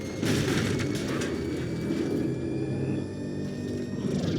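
A tank being destroyed in the video game Batman Arkham Knight, a heavy, muffled boom and rumble that rolls on steadily for several seconds, with no talk.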